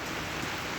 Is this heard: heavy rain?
yes